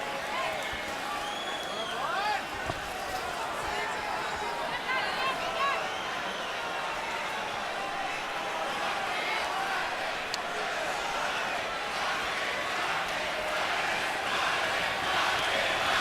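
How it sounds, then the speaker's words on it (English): Boxing arena crowd during the fourth Pacquiao vs Marquez fight, a dense, steady roar of many voices that swells into rhythmic chanting, sustained throughout at moderate distance with no clear single voice. "now they're chanting Marquez, Marquez, Marquez"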